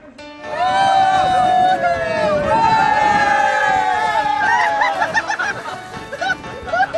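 A sailing crew cheers and whoops loudly at the finish of the Extreme Sailing Series race in Sète, France, with high excited voices rising over crowd noise and wind, then breaking into shorter shouts.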